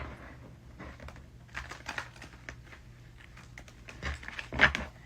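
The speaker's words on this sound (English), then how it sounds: "let me shuffle these a little bit better" Tarot and oracle cards being shuffled, quiet irregular clicks and papery riffles in short bursts, close and soft, with a sharper flick near the end.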